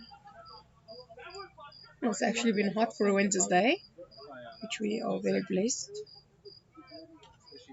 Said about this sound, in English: We still have crickets on the field.